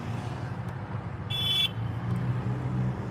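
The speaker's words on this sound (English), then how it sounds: "Who was beeping the goddamn horn?" A car horn outside gives a single short electronic beep of about a third of a second over a steady low background hum, with no voices.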